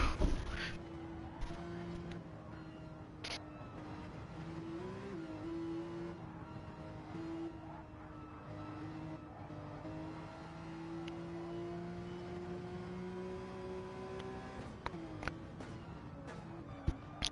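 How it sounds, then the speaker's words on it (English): A Porsche flat-six race car engine sounds in an onboard driver's-eye view at Watkins Glen. It holds a steady, loud drone with shifting pitch throughout and a few sharp spikes near the end. "what a great noise that Porsche makes"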